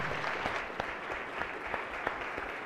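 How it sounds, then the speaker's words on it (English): Applause fills a state Senate floor session as members welcome guests, steady clapping with a few louder individual claps, fairly soft and distant. "If we can give a round of applause"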